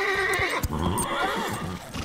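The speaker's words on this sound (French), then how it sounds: "Doudou, je n'ai pas l'habitude de cette selle, ni de ce cheval." A horse whinnying in an animated cartoon, a loud, close neigh with shaking, wavering pitch alongside soft hoof clatter.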